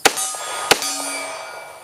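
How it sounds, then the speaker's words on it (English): Two sharp metallic clangs ring out as .45 ACP rounds from an FN 545 pistol strike a steel target, the hits spaced under a second apart and each leaving a bright lingering ring, with the gunshots themselves barely present. "Now I've got some steel down here, and I'm just going to kind of plink around a little bit."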